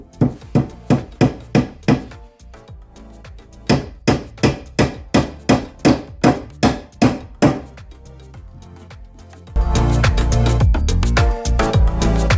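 Hammer driving nails into the corners of a wooden box, crisp sharp blows in quick regular runs of several strikes with short pauses, then louder clattering handling noise at the end.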